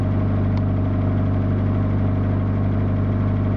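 A 1984 Jeep DJ-5M idles with a homemade pipe exhaust, giving a steady, loud, low rumbling drone with an even pulse that holds without break, close by and with no talking.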